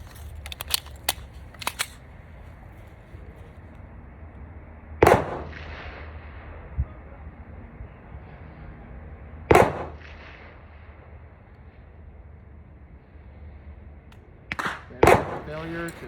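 PSA Dagger pistol gunshots at a shooting range, a few sharp, loud single shots spaced several seconds apart with a quick pair near the end, over faint background noise.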